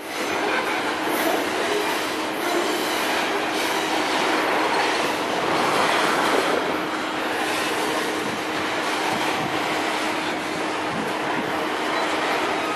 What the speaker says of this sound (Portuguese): Esse trem tá bem comprido.